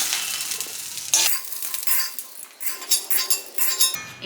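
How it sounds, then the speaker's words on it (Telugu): Green chilies fry in a kadai with a soft, close sizzle, broken by metal spoon scrapes and stirring clatter against the pan, with no talk. "పచ్చిమిర్చి కూడా ఇలా మంచిగా ఫ్రై అయిన తర్వాత దీన్ని ఒక ప్లేట్లోకి తీసుకుందాం"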